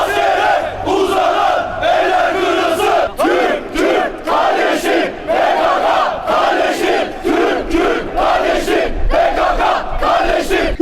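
A marching protest crowd in Bolu, Turkey, reacting to terrorism, chanting slogans in loud rhythmic unison, repeated shouted phrases with brief gaps between them, the massed voices close and forceful.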